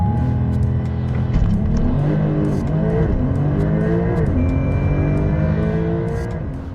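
A Porsche 911 Turbo S, 3.8-liter twin-turbo flat-six of 650 horsepower, roars as it accelerates hard, the pitch climbing through quick gear shifts, loud and close, with no talking.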